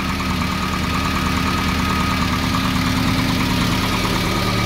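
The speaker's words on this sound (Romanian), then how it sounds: "Foarte frumos merge motorul" An ARO 10 engine, just restarted after sitting two years, idles steadily nearby at around 1100 rpm with a loud, even mechanical thrum and faint knocking, no voices over it.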